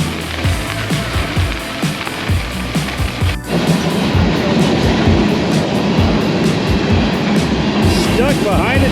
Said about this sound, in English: Stuck behind a train.